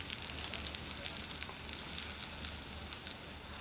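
Sausage sizzles steadily on a Bud Light aluminium bottle stove, a soft, continuous hiss and crackle of frying fat with small pops, fairly quiet and close, with no talking.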